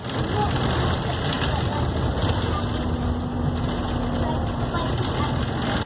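A stopped bus on a route near Penistone and Stocksbridge idles with a steady low engine rumble, a faint tonal whine running through it.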